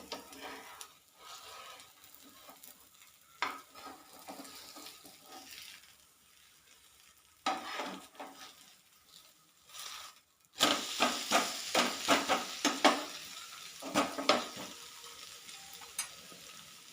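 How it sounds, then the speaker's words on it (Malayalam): Batter fries on a hot pan with a quiet, crackling sizzle that swells into louder, busier spattering partway through, with scattered clicks of a utensil nearby and no talking. "അടുത്ത് വീണ്ടും മാവ് ഒഴിച്ചു കൊടുക്കാം. ഇനി ഇതും മറിച്ചിട്ട് കൊടുക്കാം."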